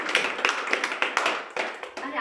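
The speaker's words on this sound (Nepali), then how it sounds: "राम्रो भने ताली पनि बज्नुपर्छ" A crowd at a talk about a therapy center bursts into lively applause, with many hands clapping in a fast uneven patter for a couple of seconds, fairly close, and voices underneath.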